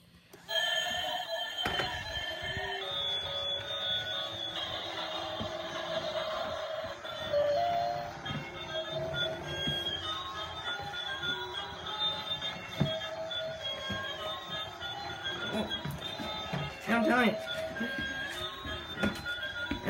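A toy bullet train with lights runs with a steady whirring, rattling motor and wheel noise, close and continuous for the whole stretch, with occasional clunks and squeals as it moves about.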